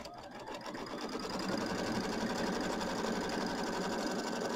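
An embroidery sewing machine tacks down quilt batting on a Kimberbell mini quilt, a steady rapid stitching drone running loud and continuous throughout with no pauses.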